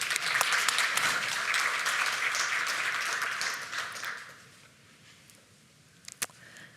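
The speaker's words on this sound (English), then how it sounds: "Big applause for Olivia." An audience applauds steadily at a space conference, a dense wash of clapping that fades out after about four seconds, followed by a few isolated claps.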